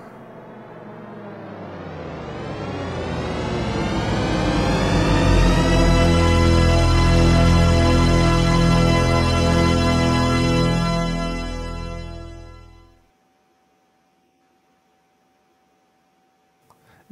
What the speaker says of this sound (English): taking a look at THX's audio logo, Deep Note